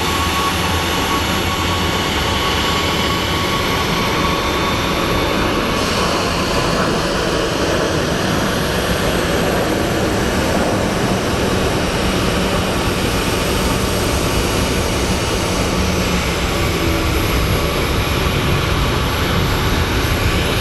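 Passenger jet arriving at Phoenix Sky Harbor airport, a loud, steady broadband engine rumble and rush that holds without a break for the whole stretch, with no voices.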